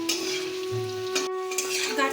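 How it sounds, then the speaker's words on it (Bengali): Sliced taro (kochu) sticks fry in hot oil in a pan, a steady close sizzle broken by the scrape and clatter of a spatula stirring against the pan, with no talk. "কেটে রাখা গাঠিগুলো এখন আমি ভেজে নেব। বন্ধুরা, ভালো করে লাল লাল করে ভেজে নিতে হবে"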